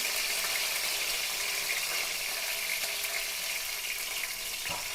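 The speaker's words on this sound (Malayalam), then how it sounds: "ഇതിലേക്ക് അല്പം കറിവേപ്പില ഇട്ട് കൊടുക്കാം." Curry leaves dropped into hot oil already crackling with cinnamon, cloves and cardamom for a chicken curry, giving a steady, dense sizzle and hiss close by that holds evenly throughout with no talking.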